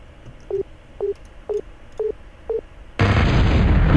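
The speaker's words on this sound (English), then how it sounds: "I destroyed everything. It's all blown up." Five evenly spaced electronic beeps from a strategy video game give way to a loud, sustained roar of explosions as units are blown apart, a dense blast that fills the final second.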